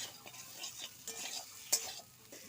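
Potatoes and mango pieces with spices are stirred in a pan for a sour fish curry, making soft scraping strokes over a faint sizzle, with one sharper metal clink, and no one speaking.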